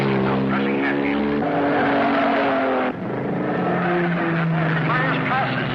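Race cars driving fast during a race, a loud continuous engine drone under excited commentary that runs throughout.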